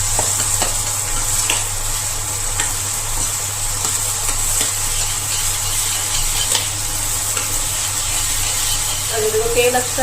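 Tomato garlic paste frying in oil with spices for a sangri vegetable dish, a steady close sizzle with occasional stirring scrapes and clicks, continuing throughout with a low hum underneath.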